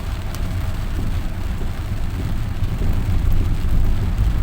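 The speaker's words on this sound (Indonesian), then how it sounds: "Udah gitu hujan juga Mul, dia pelan-pelan takut kepleset" Steady rain patters and hisses around a car during a slow drive, a dense continuous wash of noise with low road rumble underneath, loud and unbroken throughout.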